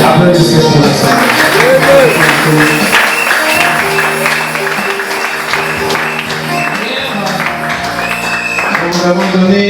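A church congregation claps during a prayer marathon service, a sustained loud wash of applause mixed with singing voices and music that carries on throughout.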